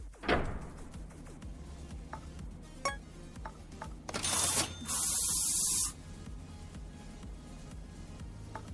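Spray painting a car in Car Mechanic Simulator 2015, one loud hissing blast of spray lasting under two seconds, set among scattered clicks and small garage clatter, with no talking.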